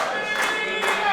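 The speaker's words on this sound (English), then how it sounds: "He's with the crowd cheering on Bino." At a wrestling match, an arena crowd cheers and claps in a dense, loud wash with two brief swells, heard together with a commentator's voice.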